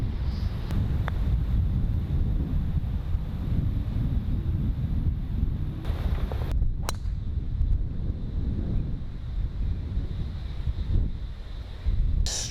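Steady, loud wind buffets the microphone throughout on an open golf course, a continuous low roar that barely lets up.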